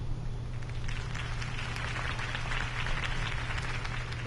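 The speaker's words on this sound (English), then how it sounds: "If only Mr. Wayne, my campaign's largest backer, could have heard that applause" Crowd applause at a political campaign rally in the video game Batman: The Telltale Series, a steady, moderately loud rush of clapping over a low background hum, with no pauses.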